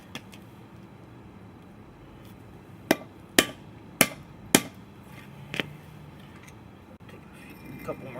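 A hammer drives a steel punch against a front wheel bearing race, giving four loud, sharp metallic hits about half a second apart, then a lighter tap, over quiet room noise.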